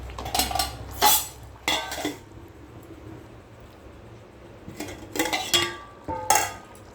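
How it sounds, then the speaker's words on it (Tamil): A wooden spatula stirs mushroom biryani rice in a metal pot, giving several short scraping, clattering bursts separated by quieter pauses, close and fairly loud. "இப்போ இந்த மராப்பையை வச்சு கிண்டிடுறோம் மர கம்பி வச்சு"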